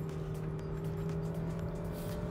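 A Nissan Rogue's engine under acceleration, heard from inside the cabin as a steady whiny groan with a low drone and sustained tonal hum, continuous and moderately quiet.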